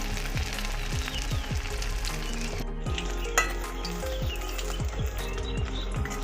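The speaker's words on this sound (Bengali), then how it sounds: "আর এটা অল্প আঁচেতেই ভাজতে হবে" Sabudana and boiled potato fritters fry gently on low heat, giving a steady soft sizzle with scattered spatula clicks and scrapes against the pan, heard close up with no voices.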